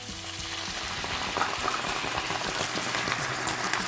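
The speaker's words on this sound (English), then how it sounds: "So let's add the wine" Wine poured into a hot pan with veal fillet hisses into a loud, steady sizzle and bubbling boil, continuous and close, with no talking.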